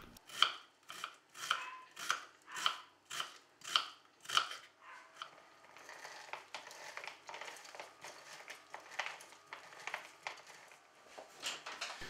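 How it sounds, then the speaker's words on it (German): An onion is diced into small cubes with a knife on a board: about eight crisp, evenly spaced chops ring out up close, then quicker, softer cuts carry on to the end. "eine Zwiebel in kleine Würfel schneiden"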